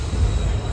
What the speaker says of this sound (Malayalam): ഗൈസ് ഇതാണ് നമ്മൾ വന്ന ട്രെയിൻ